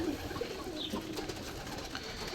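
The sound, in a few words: pigeons cooing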